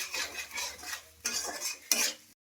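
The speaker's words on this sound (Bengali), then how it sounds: "এবার এই মশলাটাকে একটু ভালো করে কষে নেবো।" Spice paste for a mixed-vegetable chorchori, seasoned with sugar, is stir-fried in a pan, giving a steady hiss and scraping of a spatula in quick bursts before cutting off abruptly.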